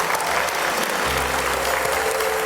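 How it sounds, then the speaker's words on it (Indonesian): Studio audience applauding loudly at a comedy talk show, dense continuous clapping filling the whole moment with no speech. "ada tepuk tangan dong untuk calon toh"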